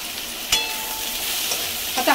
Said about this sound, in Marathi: आता हा सगळा मसाला अजून आपण 5 मिनटं चांगला फ्राय करायचा आहे